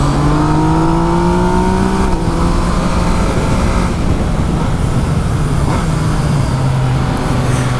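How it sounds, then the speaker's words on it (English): A 2017 Yamaha MT-09 motorcycle accelerating hard in second gear, the engine note loud and close, rising steadily in pitch with a brief dip midway, wind roar throughout. "I'm accelerating in second gear, TCS1 in A mode"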